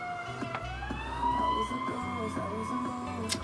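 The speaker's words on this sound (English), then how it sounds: "Anytime I hear sirens, I'm always immediately like, I hope they're okay." Emergency vehicle siren wails outside, a rising and falling tone heard from indoors at moderate distance over a low background rumble.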